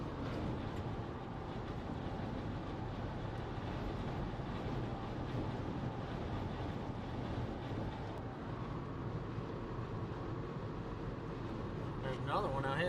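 Strong wind buffets the microphone during a storm chase in northeast Colorado, a steady loud broadband roar lasting throughout with no letup, with smoke from a nearby fire in the area.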